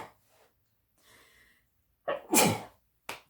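A single close, loud sneeze bursts out after a couple of soft sharp inhales, followed by a short snort or sniff, with no talking.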